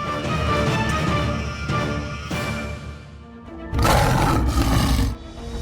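A lion roars in a wild-animal clash with a pack of wild dogs, giving deep, loud growling roars that swell and fade, then surge again in a second powerful burst near the end, with no talk.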